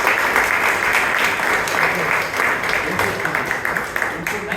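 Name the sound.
audience applause for Toastmaster at club meeting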